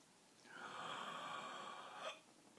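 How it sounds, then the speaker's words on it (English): A singer draws a long, steady breathy inhalation that cuts off abruptly as the vocal cords snap shut, leaving a small click at the end. It is close and quiet, with no talk. "By actually closing my vocal cords together, I stop the inhalation."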